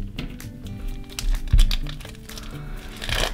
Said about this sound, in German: Die sind alle noch gut eingepackt und eingeschweißt. Da hole ich mir mal eine Schere zu Hilfe.